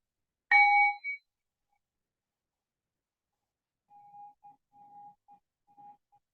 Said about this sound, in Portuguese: Eu vou tocar o sino novamente